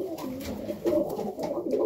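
A young Serbian highflyer pigeon coos softly in low repeated throaty phrases, close by and quiet, with faint background noise.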